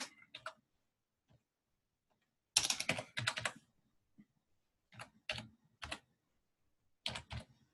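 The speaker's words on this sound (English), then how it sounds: "So let me just type that in." Quick clusters of computer keyboard keystrokes break a near-silent room, with a longer burst of rapid clicking and then short, spaced groups of taps, crisp and close.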